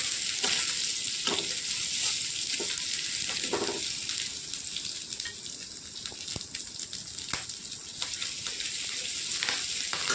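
Ginger and garlic fry in a wok for an Assamese khar dish, giving a steady, close hiss of sizzling oil with occasional light stirring taps throughout.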